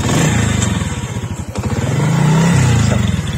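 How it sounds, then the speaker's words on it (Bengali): A 17-year-old Dayang 50cc Chinese motorcycle, somewhat rusty, runs up close with a loud, rapid putt-putt idle, briefly dipping then rising again as the small engine is revved. "আপনাদেরকে আমি একটু স্টার্ট করে দেখাই।"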